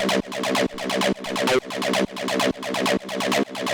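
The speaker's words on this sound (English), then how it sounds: "So I've got this utility here just doing the bass mono" An acid TB-303 synth line run through chorus and a mono-bass utility, looping a quick pattern of short resonant notes that swell and restart in a steady rhythm, moderately loud and alone with no voices.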